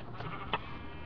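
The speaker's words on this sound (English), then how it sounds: "There's a sheep right there." A sheep in the video game Minecraft gives a short, faint bleat over quiet background sound.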